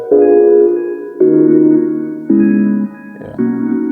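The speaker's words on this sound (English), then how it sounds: "Another Omnisphere plugin. Played this one. It's a retro hybrid, something like that." A retro hybrid synth patch from the Omnisphere plugin plays sustained chords in a studio, four loud held chords in sequence with sharp attacks and slow decay, alone with no talking.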